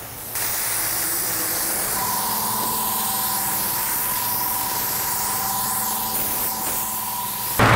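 A spray gun lays down a base coat of paint with a steady, close hiss that runs unbroken for several seconds, under a faint tonal hum and with no talking.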